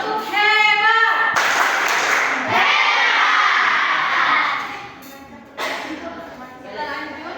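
A classroom group claps out a rhythmic chant together, loud and close, with children's voices shouting along and a teacher speaking between the bursts of clapping.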